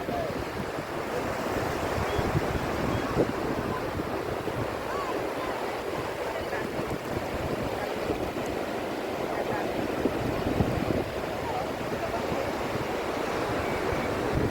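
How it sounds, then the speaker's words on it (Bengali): Gentle ocean waves wash continuously onto the beach at Barrister Colony in Old Digha, a steady broad surf roar mixed with wind buffeting the microphone. "এখন ঢেউ মোটামুটি হালকা আছে"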